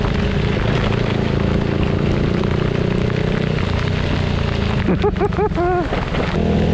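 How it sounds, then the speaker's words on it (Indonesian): Heavy rain pours down hard on a misty mountain route, a dense, continuous loud hiss with a steady low rumble, and a brief voice rises over it near the end. "Oh, hujannya makin keras nih."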